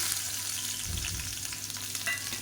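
Garlic frying in hot sesame oil in a pan gives a close, steady sizzle with a brief stirring scrape near the middle, no voices, while curry leaf thuvayal is being made.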